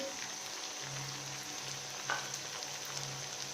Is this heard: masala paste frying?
yes